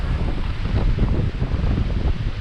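Steady wind roar and ocean swell wash over a sailboat running at 6 to 8 knots in 15 to 22 knots of wind, swell rolling through a reef; loud, continuous and close, with no talk.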